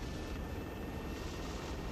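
Helicopter in the Arma military video game, a steady, loud rotor and engine drone heard from inside the cabin with no break.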